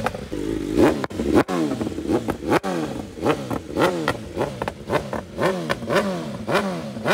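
A sport motorcycle engine, one of a BMW M1000RR or Ducati Panigale V4 Speciale superbike, revs repeatedly in close, loud bursts, its pitch rising and falling in a steady series of throttle blips with clattering mechanical noise underneath.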